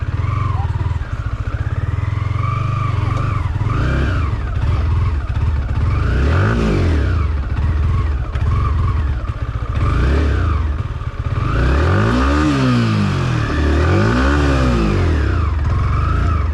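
A motorcycle stuck in mud in the rain, with traction control on the rear wheel, revs hard and loud, its engine repeatedly rising and falling in pitch as it strains to climb free.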